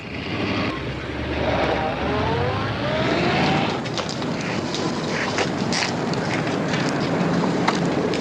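A car drives off in a crime drama scene, its engine a loud, steady broadband roar that rises slightly as it pulls away, with no speech over it.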